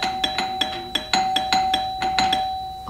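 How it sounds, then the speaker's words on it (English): A house doorbell rings in a quick run of repeated bright electronic chimes, loud and close, with no talking. "My doorbell's probably gonna ring and I'm just not gonna answer it."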